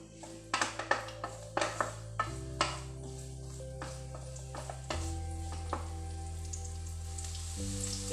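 Sliced onions fry in a pan until brown, a steady sizzle running throughout with sharp clinks of a utensil against the pan in the first few seconds.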